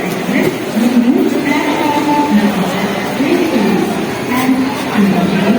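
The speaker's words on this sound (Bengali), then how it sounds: "সবেমাত্র ট্রেন ছাড়লো" Low rumbling of a train departing a station at night, a steady rolling drone, murky voices and station bustle mixed in throughout.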